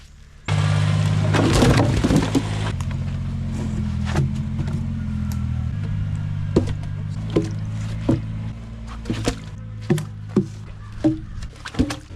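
A vehicle rolls over a built swamp crossing at a Canadian deer-hunting camp. A low engine drone starts abruptly and keeps going, and sharp wooden knocks and creaks sound at irregular intervals as the crossing takes the weight.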